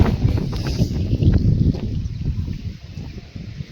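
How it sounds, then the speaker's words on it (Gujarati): Strong storm wind gusting across open farmland, a loud, steady rushing roar buffeting the microphone, easing slightly toward the end. "જુઓ તમે ચારે બાજુ ફૂલ પવન છે, વીજળી થાય છે."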